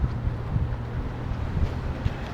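Breezy wind outdoors on a sunny day in Orange, Ohio, a steady low rumble of wind buffeting the microphone with brief gusty thumps and no voices.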